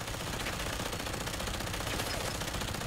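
Dense, quiet rattling of automatic gunfire in the video game Fallout 4 forms a continuous wash of shots that seems to come from some distance, with no talk.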